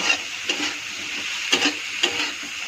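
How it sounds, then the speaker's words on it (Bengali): A spoon stirs food in a cooking pan after lemon juice is added, giving a soft, steady sizzle broken by a few light scraping taps against the pan, with no talking. "এখন আমি এর মধ্যে অল্প লেবুর রস ছেড়ে দেব, আবারও ভালো করে মিক্স করব"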